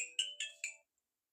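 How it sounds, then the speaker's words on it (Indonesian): A phone ringtone plays an incoming-call melody, three bright electronic chimes in quick succession, clear and close, then stops abruptly into silence. "Ntar ada telepon dulu."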